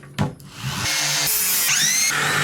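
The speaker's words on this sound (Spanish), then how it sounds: "voy a lijar las punticas de los tornillos que atravesaron el material" A power sander grinds down screw tips poking through a panel in a camper van build: a few short bumps and a brief start, then a loud, steady whine that runs on unbroken to the end.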